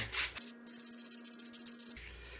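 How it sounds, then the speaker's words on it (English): Steady back-and-forth scrubbing on the slide of an Amal carburetor from a Triumph Bonneville T140V, roughly a dozen quick rhythmic rubbing strokes laid over a faint constant hum, close and fairly quiet. "The scratches we're making are in a more favorable direction than the vertical scratches that are there now."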